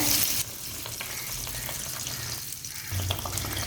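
Sweet appam batter frying in medium-hot oil, a steady dense sizzle and bubbling that holds throughout, with faint clinks and low background hum.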